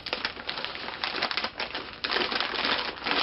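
A sheet of paper is crumpled close up by hand against a face, giving a dense, continuous crackle of rustling and crinkling that swells and eases without pause.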